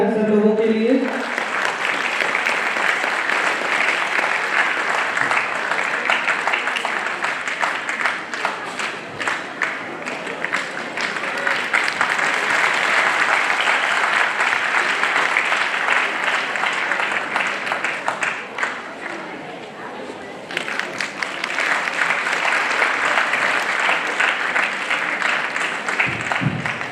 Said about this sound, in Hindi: तालियां बजाएं सर लोगों के लिए।